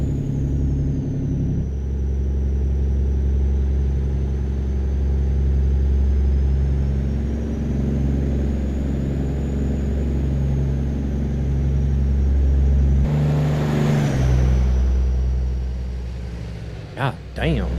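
A heavy truck engine in American Truck Simulator drones steadily with a deep low rumble, loud and continuous, shifting tone partway through as the rig cruises along.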